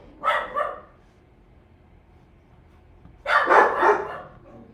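Dogs at home barking in two short bursts, a couple of quick barks first, then a louder, longer cluster of barks after a quiet pause, close by and alone with no talk.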